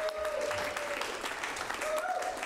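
An improv comedy audience applauds steadily as players are introduced for the next game, a dense wash of clapping with a few voices and cheers over it.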